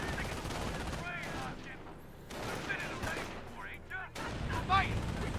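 Scattered gunfire and combat noise from a Company of Heroes battle with Panzer Grenadiers and half-tracks, moderate and layered under steady commentary.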